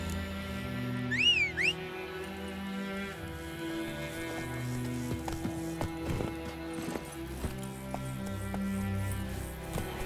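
The horse Roach's hooves clop in a steady trotting rhythm in The Witcher 3, close and continuous over a soft musical score, with a brief whinny near the start.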